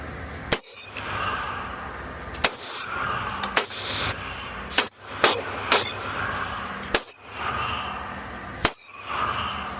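Alpha Foxtrot Romulus pistol firing a string of sharp gunshots, about eight loud cracks spaced irregularly across the clip, each followed by a brief echoing tail outdoors.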